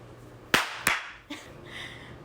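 Two sharp hand claps close together near the mic in a quiet room during an interview, followed by a softer third tap and faint rustling.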